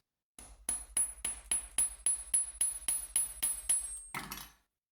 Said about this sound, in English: What happens if you hammer them?